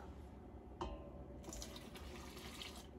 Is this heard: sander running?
no